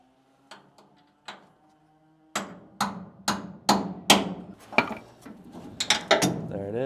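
An air hammer works on worn axle suspension parts during an axle swap, firing sharp metallic bursts that start sparse and faint, then turn into a loud, irregular run of close hits.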